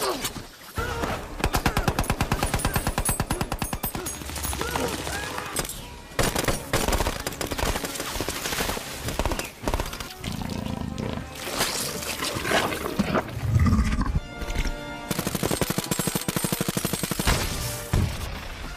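Automatic Predator-technology turret in an alien movie fires long rapid bursts of gunfire, loud and dense, broken by brief pauses and mixed with movie sound effects.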